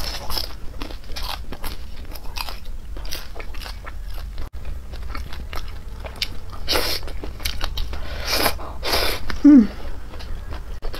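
Fried rice cake being bitten and chewed up close, a run of crisp crunchy bites and wet chewing bursts over a faint steady background, with a louder bite near the end.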